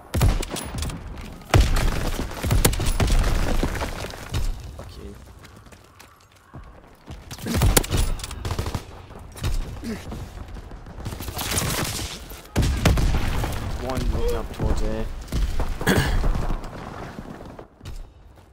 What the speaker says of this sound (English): Not the 8 motherfuckers shooting out with machine guns.